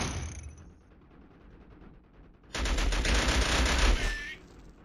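Machine gun fire in the Killzone video game, a dense rapid burst lasting about a second and a half, loud and close, rising abruptly out of a low rumbling background and then cutting off.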